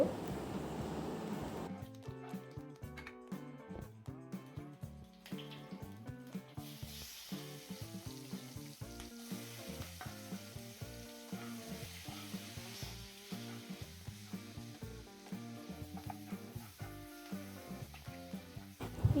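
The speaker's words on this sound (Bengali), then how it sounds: "আর কুচনো পেঁয়াজ এবারে ভালোভাবে ভেজে নেব" Chopped onions with dried red chillies fry in a pan, a soft continuous sizzle sitting quietly beneath prominent background music.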